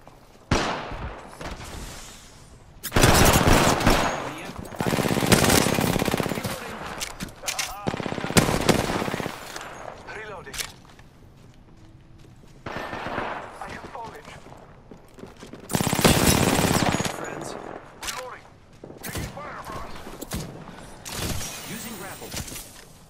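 Bursts of automatic gunfire from a firefight in the battle royale game Apex Legends, loud rapid volleys in several clusters separated by quieter gaps, with game voice lines and talk at times.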